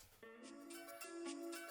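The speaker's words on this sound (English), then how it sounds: "You hear that ding," A bright synth ding rings out, sustained tones with a slight rising sweep, clear and close with no talking.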